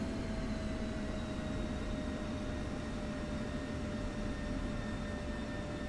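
Steady, droning jet engine of an F-16 in the DCS flight simulator, a continuous broadband rumble with faint high whine tones, even and unbroken throughout with no voices.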